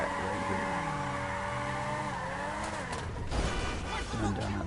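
A GTA 5 X80 Proto car engine revs hard as tires screech and skid in sustained donuts, with a brief crash-like thump near the end.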